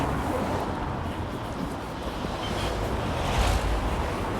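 Wind buffets the microphone outdoors on a crosswind street in Hawick, a continuous low rumbling roar with soft gusty swells throughout and no voices.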